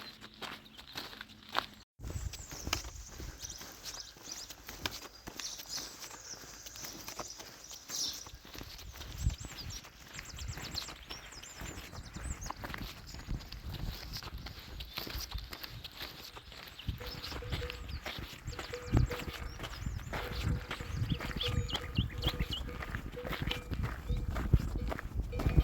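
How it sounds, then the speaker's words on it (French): Free-roaming horses walk along a village road, their hooves clip-clopping steadily at close to moderate range over continuous outdoor background noise, with no talk. "Sympa les chevaux en liberté comme ça."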